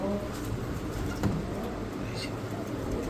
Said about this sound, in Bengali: এই যে নর মাদি দুইটাই ডাকতেছে